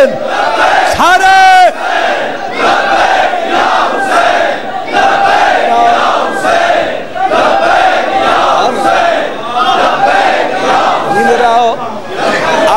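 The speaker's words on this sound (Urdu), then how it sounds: "ہاتھ بلند کر کے بولو لبیک یا" A large crowd at a Shia majlis in Faisalabad roars a loud, sustained chant of devotion to Hussain, voices swelling together and overlapping with shouting and chatter throughout.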